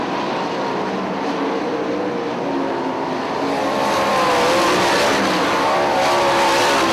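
Sprint race cars circle a speedway at Hartford Speedway Park, producing a loud, continuous engine roar that swells slightly as the field passes, heard without talk.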